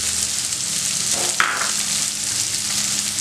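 Beans frying in a pan for mutton cutlets make a continuous close sizzle, broken midway by a sharper hiss and light clatter, with no voices.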